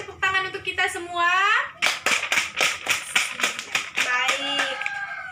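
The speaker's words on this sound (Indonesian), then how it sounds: "Beri tepuk tangan untuk kita semua." Children in a primary school classroom clap together in a quick, uneven burst of close, sharp claps, with a voice and giggling before and after.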